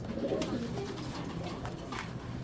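Pet pigeons, a pair of blue-eyed birds, coo softly and steadily at close range, a low murmuring call repeating throughout against faint background noise.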